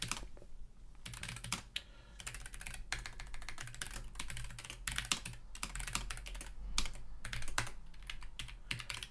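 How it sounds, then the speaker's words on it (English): Rapid typing on a computer keyboard while writing program code, with steady close-up key clatter in irregular bursts and brief pauses, no voices. "I just want to type my program and have it work."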